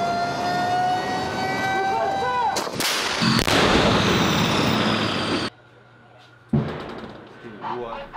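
A tank gun fires during live-fire training with an armoured battalion, a huge close blast followed by a long rolling roar and echo that cuts off abruptly, then quieter field noise and a second muffled burst.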